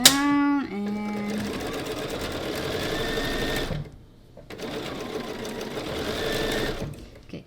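A sewing machine stitches quilt block pieces together, a loud steady close-up motor buzz with rapid needle chatter, pausing briefly before resuming, after a short tone at the start.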